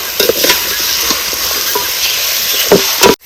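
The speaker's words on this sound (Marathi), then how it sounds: "हे मटण ह्याच्यात टाकायचं चांगलं ना हलवून घ्यायचं" Mutton coated in turmeric and salt is stirred and fried in hot oil, giving a loud, dense, continuous sizzle with a few scraping stirs near the end before it cuts off abruptly.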